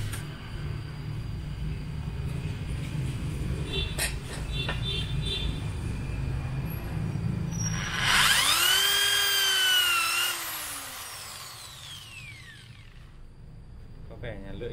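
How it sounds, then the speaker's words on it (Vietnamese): A power saw with a dull blade cuts a block of wood for grafting a Lan Hoàng Nhạn orchid, giving a loud, high whining burst over a steady motor hum, then winding down. "Có vẻ là lưỡi cưa khả năng khá cùn rồi."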